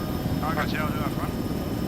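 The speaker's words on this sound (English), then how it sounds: "The helicopter's taking off from the edge in front." A helicopter lifts off in the Arma 3 military game, its rotor and engine roar loud and continuous under brief radio-style talk.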